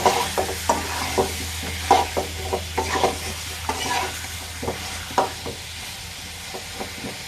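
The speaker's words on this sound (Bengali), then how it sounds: "সুন্দর মতো নেড়ে চেড়ে নেব।" Round-sliced potatoes fry in a pan while a spoon stirs them, producing distinct scraping knocks at an uneven rhythm over a low, continuous sizzle, close and clear.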